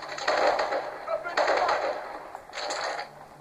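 Rapid video game gunfire in Call of Duty: Advanced Warfare, coming as bursts of loud automatic shots with short pauses between volleys and no talk over it.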